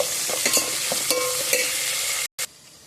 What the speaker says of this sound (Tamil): இப்போ நான் தக்காளி சேர்த்துக்கிறேன். நல்லா வதக்கி வச்சுக்கிறேன்.